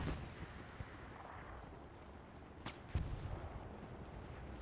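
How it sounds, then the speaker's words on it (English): Gunfire in the video game Hell Let Loose during a competitive match: two sharp shots crack out, one close after the other, over a low rumbling battlefield bed at fairly quiet overall level. "There's Capitan taking some shots at him."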